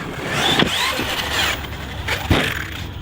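A HoBao Hyper MT Plus II RC monster truck on 6S power launches off a ramp: a high electric motor whine surges, then two sharp thuds land about two seconds apart.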